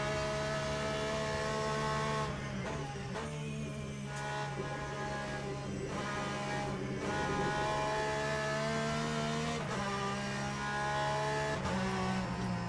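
A race car lapping the bumpy Sebring circuit in a racing video game, engine droning steadily at high revs with shifts and brief dips, continuous and fairly faint throughout.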